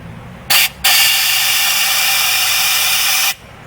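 A can of cleaner spraying through a carburetor jet where the needle was removed, a loud close hiss that starts with a short burst, breaks briefly, then sprays continuously for about two and a half seconds and stops abruptly.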